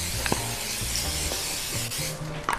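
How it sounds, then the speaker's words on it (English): Cooking spray hisses onto a baking pan in a few short bursts, close and fairly soft, with a light clatter of the pan between sprays, in a home kitchen. "So I'm going to spray my pan."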